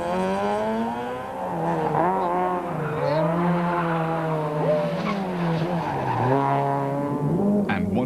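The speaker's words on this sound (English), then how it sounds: "Watch the clock and see if Enzo Keane can put theory into practice as he slides his car around these tight confines." A 2005 VW Polo rally car slides through tight corners on a rally stage, its engine revving in a continuous strained, wavering whine with pitch rising and falling as it accelerates and drifts, loud and close.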